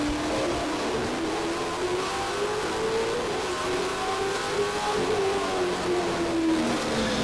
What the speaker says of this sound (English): the guy in front of me on the pole messes up on his restart and spins his rear tires